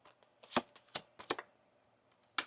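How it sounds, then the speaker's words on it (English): A deck of oracle cards is shuffled in a few quick, soft riffling snaps and taps, close and quiet in a calm room. "One more shuffle."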